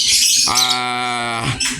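Pet birds offered for sale give a loud, sustained harmonic call with squawky, chirping bursts at the start and end, close to the listener, with no talk.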